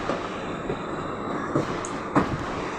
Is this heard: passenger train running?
yes